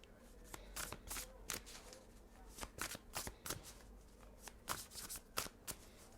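Tarot cards being shuffled by hand, a run of quick, crisp riffling bursts in an irregular rhythm, close and fairly quiet, with no talking over it.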